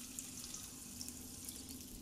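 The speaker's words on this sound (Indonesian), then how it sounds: "Tuangkan air sebanyak 300 ml." Steady running water pours continuously into a pan for a couple of seconds, a soft splashing hiss with no voices.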